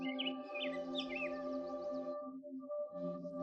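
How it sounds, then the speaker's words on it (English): Birds chirp and warble in quick trills over a steady droning hum in a Tatarstan village, with a brief lull before the drone resumes. "the sound of birdsong is constant"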